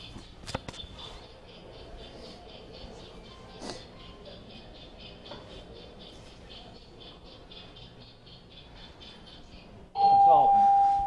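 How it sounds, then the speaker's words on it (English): A game show bell sounds near the end with a sudden loud, sustained ring that cuts through faint background noise and a few scattered clicks. "Just as that bell went off"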